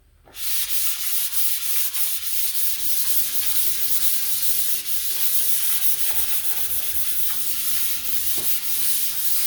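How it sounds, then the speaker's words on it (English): Steady, continuous scratchy rubbing of fine-grit sandpaper lightly sanding wood filler, close and fairly loud, with a faint rhythmic tone running underneath. "you can going to do a light sanding. Now you can use fine grit"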